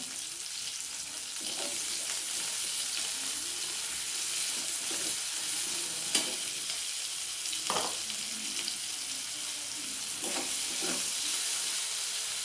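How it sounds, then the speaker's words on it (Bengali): Chopped medium onion with a pinch of salt frying in oil for a chickpea ghugni, a steady broad sizzle throughout with a few soft stirring clinks, no voices. "পেঁয়াজটা একটু ভালো হয়ে ভাজা হলে"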